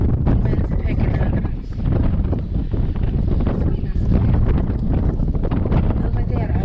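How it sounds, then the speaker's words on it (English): Strong wind buffets the microphone in a loud, continuous roar, with a voice speaking under the blustery noise. "Wind's picking up."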